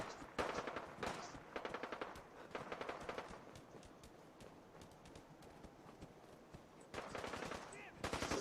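Distant gunfire in the Fallout 4 video game, rapid automatic bursts that come and go in several clusters, faint and far off, with a quieter lull between them.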